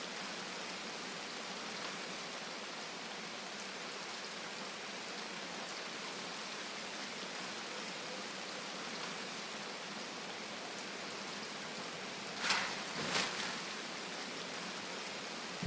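Steady rain falls in a survival shooter game, a dense, even hiss that continues unbroken, with two brief sharp crackles near the end.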